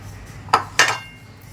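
A knife chops green chili on a cutting board in a home kitchen, giving two sharp, close knocks about a quarter second apart and then fading out.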